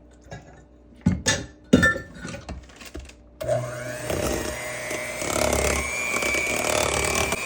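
A few clinks of bowl and utensils come first, then an electric mixer beating boxed golden butter cake batter on slow starts up, its motor whirring steadily and close at hand until the end.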